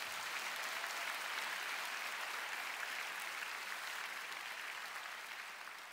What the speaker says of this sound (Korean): 감사와 찬양의 박수를 올려드리겠습니다